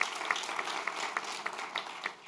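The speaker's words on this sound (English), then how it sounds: "Please give her a warm round of applause" School board meeting audience applauding a middle school principal: a moderate, fairly distant patter of many hands clapping steadily, with no voices over it.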